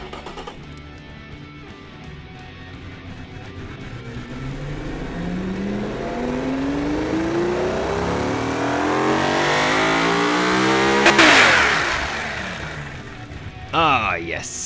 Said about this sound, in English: have a listen to the engine, and we do that right now